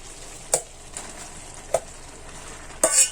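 Pasta being stirred into spaghetti sauce in a pan, with a few sharp scraping and clinking strokes at irregular intervals over a low steady sizzle, close and fairly quiet, no talking.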